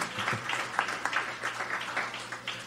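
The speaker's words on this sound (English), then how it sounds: "Let's give him a round of applause." A small studio audience claps for a new interim hockey head coach on a talk show, producing sparse, scattered individual claps, fairly quiet and short-lived.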